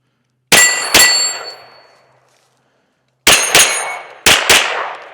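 Smith & Wesson FPC carbine fired outdoors at a tree: six sharp, loud gunshots in three pairs, each crack ringing off with a metallic tail, separated by brief silences.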